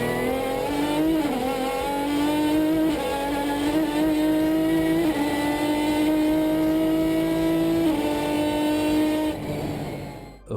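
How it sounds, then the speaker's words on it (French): A Ferrari V12 engine roars loudly at sustained high revs, its tone rising and shifting through gear changes for about ten seconds before dropping off at the end, with no voices. "je vais vous laisser en compagnie de cette magnifique symphonie que produit ce V12"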